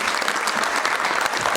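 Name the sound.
audience applause welcoming speaker to stage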